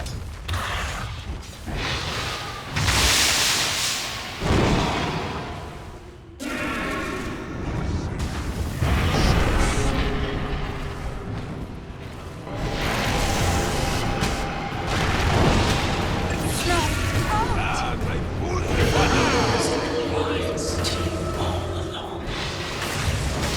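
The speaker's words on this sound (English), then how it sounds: "Dire's bottom tower is under attack." Video game battle in Dota 2 as a tower comes under attack: repeated booms, whooshes and mechanical impacts of spells and weapons, with loud, dense, continuous combat noise throughout.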